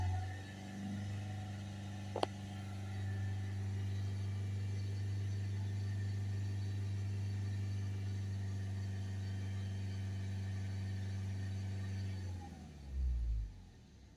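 A Ford Transit Custom diesel van with a blocked DPF holds a steady, even engine drone at 3000 RPM for about twelve seconds, then drops back toward idle with a short low rumble near the end.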